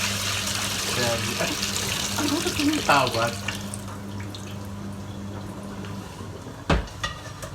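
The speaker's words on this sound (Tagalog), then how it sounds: "bawasan muna natin or alisan muna natin ng tubig yung ating binabad na" Water drains and splashes out of a bowl of soaking pork belly in a home kitchen, close running and gurgling for the first few seconds under a woman's speech, then fading to quiet with a sharp knock near the end.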